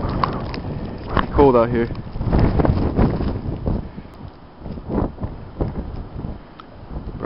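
Blizzard wind roars against the microphone at night during whiteout conditions on a snowy road, a steady loud rushing gust that runs under someone speaking close by.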